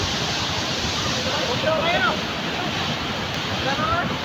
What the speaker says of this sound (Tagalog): lalapit tayo sa falls